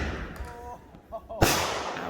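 A backyard Fourth of July firework mortar bursts with a single sharp, loud boom after a few faint whistling tones, followed by a lingering crackling wash of noise.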